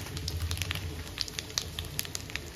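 Cumin and ginger fry in hot oil, giving soft, irregular crackles and pops over a low sizzle, close by but fairly quiet.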